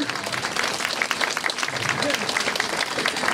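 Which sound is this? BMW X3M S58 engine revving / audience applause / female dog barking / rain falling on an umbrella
audience applause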